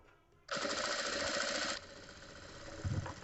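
An electric sewing machine stitches a katori blouse, a loud, fast, even whirring run of about a second and a half that stops abruptly, followed by a quieter hum and a soft thump.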